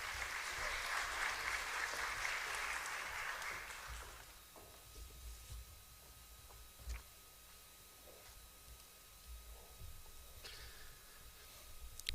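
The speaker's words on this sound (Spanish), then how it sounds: "Recibamos igualmente con un caluroso aplauso" Warm applause from an audience greeting an invited speaker at a Spanish-language lecture on economic freedom and political structure, a dense, steady clapping for about four seconds that then dies away into a quiet room with a few scattered sounds.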